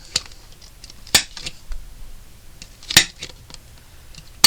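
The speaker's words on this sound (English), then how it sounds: "Staple the bottom instead of taping it." Three sharp clicks of a stapler closing through the bottom edge of a paper pocket, spaced a second or two apart, near and distinct over a quiet room with faint handling rustles between.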